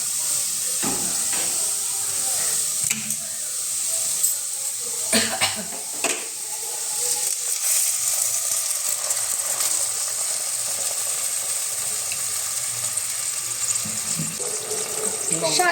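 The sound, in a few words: water added to frying potatoes in a pan, sizzling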